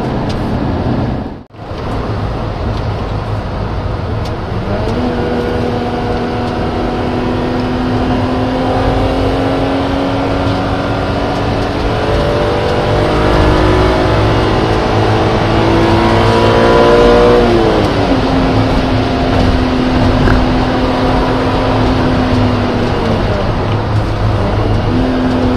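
A BMW Z3 M Coupe on a test drive accelerates hard through the gears, its engine note climbing steadily in pitch, dropping briefly at a shift, then rising again, loud and heard from inside the car.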